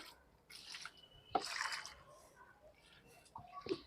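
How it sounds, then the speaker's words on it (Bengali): Water is poured onto potted garden plants, including a balsam, in a few short splashing, trickling bursts that start and stop, fairly soft and close. "প্রত্যেকটা গাছে একটু করে জল দিয়ে দিই"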